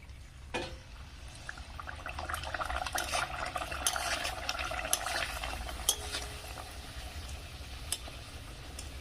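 Bottle gourd luchi frying in hot oil, a soft continuous bubbling sizzle with scattered clicks and light utensil taps, close but quiet, no voices.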